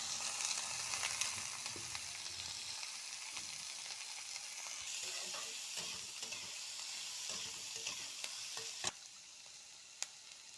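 Chopped carrots being stirred and fried in a pan for a vegetable momo filling, a steady soft sizzle with scraping stir strokes and a couple of sharp utensil clicks, close and alone.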